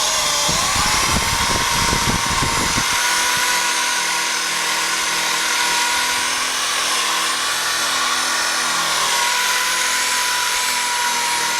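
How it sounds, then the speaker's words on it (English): A buffing ball spins on a powered tool to polish a metal pipe with Flitz polish, a loud continuous high whine with some rough contact noise early on, holding steady throughout. "this buffing ball is very, very user-friendly"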